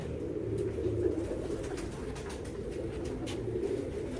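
A pigeon at a home loft gives soft, low cooing that runs steadily under a constant background hum, with no voices over it.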